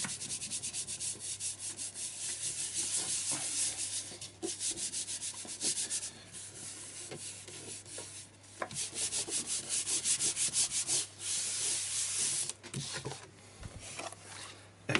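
Glued paper in a handmade circular art journal is rubbed down by hand, making a steady, close, dry scratchy swishing that continues for several seconds with brief dips and pauses, without any voice.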